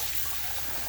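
Water runs and swishes as rice is rinsed in a pot, a brief, faint steady rush with no voices.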